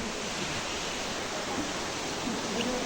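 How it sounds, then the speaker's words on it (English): Elephant Falls waterfall in Shillong roaring as a broad, steady rush of falling water, loud and close, with no break over the few seconds. "we came from up and see the waterfall"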